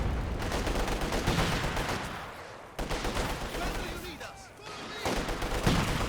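Dense gunfire and artillery barrage in the Company of Heroes 2 strategy game, continuous rattling bursts and thudding blasts with brief lulls, under a commentator's steady talk.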